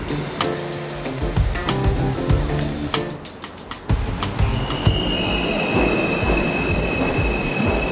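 A metro train running, rumbling and clattering with sharp squealing wheels and rhythmic clicks, then a steady loud roar with a high whine as it speeds along.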